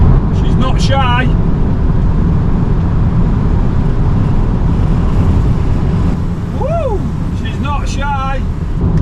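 An Audi TT engine pulls hard on a big sweeping road, a loud steady roar with heavy wind and road noise throughout, close and continuous, while a few squeaky chirps cut through the drone.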